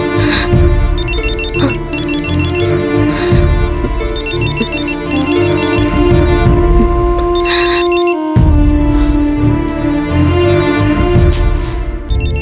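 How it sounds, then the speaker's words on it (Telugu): A telephone rings loudly and steadily, a repeating electronic ringtone pattern with bursts of chiming tones cycling for about twelve seconds, with no talk over it. "ఫోన్ వచ్చిందమ్మా. ఎవరు చేశారో చూడు."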